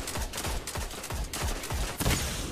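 Pulse rifle fire in a multiplayer shooter video game, loud rapid bursts of repeated shots with steady rhythmic punches throughout.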